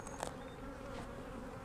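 Honeybees hum steadily inside a crowded nuc hive, a soft close drone with faint individual buzzes rising briefly above it, with no voices.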